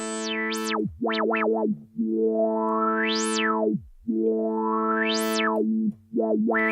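A virtual synthesizer with resonance set very high, its cutoff knob swept up and down so a bright, whistling resonant peak swoops and squeals over a steady buzzy tone, with a few brief gaps between sweeps.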